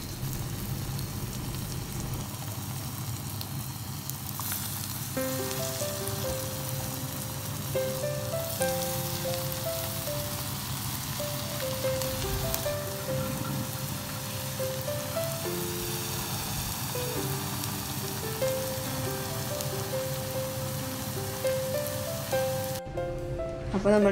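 Falafel frying in oil over a medium flame, a steady broadband sizzle like light rain running throughout, with background music playing over it.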